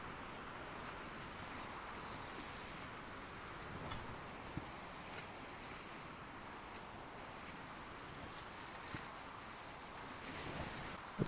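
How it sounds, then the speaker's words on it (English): Big grey ocean waves in the sailing simulator Sailwind roll and wash continuously with steady wind noise, a broad, dense rushing that stays at an even level throughout. "Well, there's some big old waves here."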